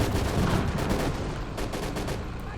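Sustained gunfire aimed at enemy infantry in the World War II strategy game Call to Arms - Gates of Hell, Eastern Front, a dense continuous battle din of shots and volleys at steady loudness throughout.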